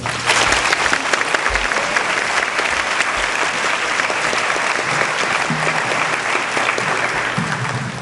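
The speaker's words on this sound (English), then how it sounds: "please give a warm round of applause to Peter Davis" An audience at a high school National Honor Society induction ceremony gives a loud, sustained round of applause to welcome a guest speaker, dense clapping filling the room steadily for about eight seconds.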